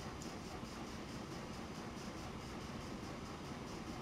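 A freight train carrying crude oil rolls steadily along in the railway sim Transport Fever, a low continuous rumble with faint rhythmic clatter, quiet and unbroken with no voices.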